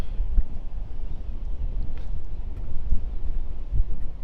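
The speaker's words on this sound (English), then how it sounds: "yeah, it's windy" Steady low wind rumbles and buffets against the microphone on a rocky forest shore, a constant outdoor roar with no talking.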